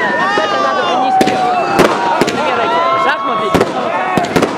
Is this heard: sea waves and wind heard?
no